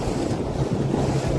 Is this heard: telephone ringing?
no